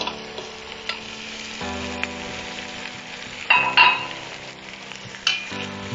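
Eggplant and string beans stirred and frying in a pan for tripe kare-kare, a steady sizzle with scraping stirs and a few sharper clinks of utensil against the pan, close and without talk.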